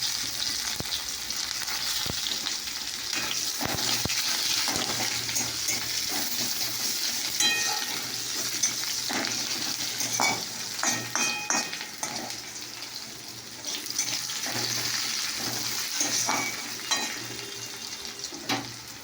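Bay leaves, five-spice seeds and onions fry in hot oil in a wok, making a soft, steady sizzle with occasional stirring clinks against a low hum.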